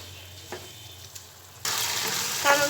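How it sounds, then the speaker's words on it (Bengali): Cinnamon, cardamom, bay leaf and chopped tomato go into frying masala for a coconut milk duck bhuna; a quiet sizzle with a few taps suddenly surges into a loud, bright crackle, then a metallic clink. "এখন আমি দারচিনি, এলাচ, তেজপাতা এবং টমেটো কুচি দিয়ে দিচ্ছি মশলা কষানোর মধ্যে।"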